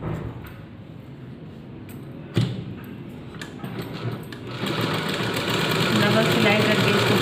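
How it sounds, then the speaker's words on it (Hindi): A sewing machine runs in bursts while stitching a kurti's shoulder seam with a double line of stitches. The close mechanical whir and rattle gets louder and steadier in the second half, with faint talk underneath. "डबल सिलाई करके इसको पक्का कर लेंगे।"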